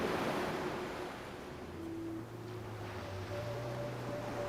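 Ocean surf washes in a steady, continuous roar with light wind, with no one speaking.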